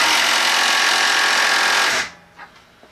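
A Milwaukee M12 3/8-inch stubby cordless impact wrench runs in mode 2 with a loud, dense, steady hammering buzz for about two seconds, then cuts off abruptly into near silence with a couple of faint clicks.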